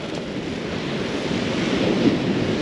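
Strong coastal wind of around 20 to 25 miles an hour buffets a tent at a wild camp at night during a yellow weather warning, a steady broadband roar with wind noise on the microphone and possible surf, no talk.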